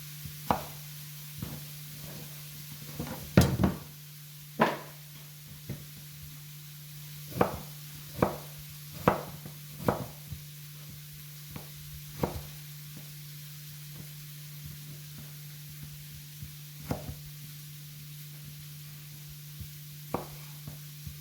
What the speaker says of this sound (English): now going to cut your turnip the same way that you cut your carrots, in long, slender slices